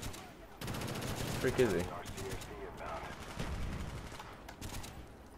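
Bursts of automatic gunfire from a weapon in Black Ops 1, rapid and fairly close, interrupted by short pauses, while a player talks over the shooting.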